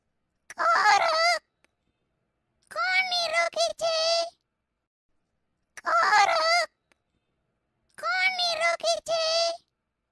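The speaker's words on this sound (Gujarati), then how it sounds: "પક્ષી ફરીથી બોલે છે" Four loud honking bird calls in separate bursts, each a harsh, gabbling cry with pauses of quiet between them.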